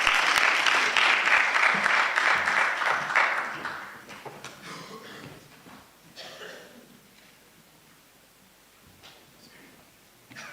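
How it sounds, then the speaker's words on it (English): Loud crowd applause at a heritage and tourism conference fills the first few seconds, then fades into scattered claps and quiet room noise. "Let's give him a round of applause"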